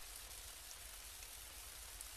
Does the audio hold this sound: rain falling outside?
yes